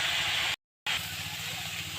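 Drumstick flowers and tomato fry in a pan with a dense, even hiss, interrupted by a brief abrupt cut to silence before resuming.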